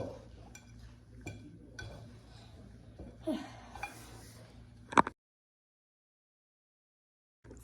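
Thick butterscotch batter being stirred in a bowl, giving soft scraping and clinking of utensil against the bowl, with occasional sharper knocks, before the sound cuts to silence.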